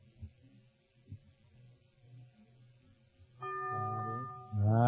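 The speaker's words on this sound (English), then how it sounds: "The bell is tolled." A game show bell sounds for a wrong answer: after a quiet stretch of low murmuring, a sustained, ringing tone swells up near the end and holds, loud and clear.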